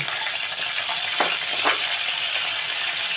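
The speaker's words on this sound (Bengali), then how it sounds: "ফোড়ন আমি দেবো শুকনো লঙ্কাটা, গোটা তেজপাতাটা আর গোটা জিরেটা, এবার আমি দিলাম এটা" Dried red chillies, whole bay leaf and cumin seeds sizzle in hot oil for tempering, a dense, steady hiss with a couple of brief spatters partway through.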